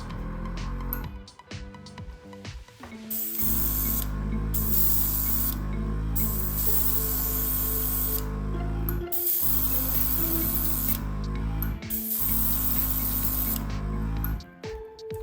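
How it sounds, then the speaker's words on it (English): An airbrush sprays paint during detailing work on a town statue for an HO scale model railway layout, giving a loud, steady hiss that runs almost the whole clip, broken by a few brief pauses with no talking. "let's see if my airbrush works"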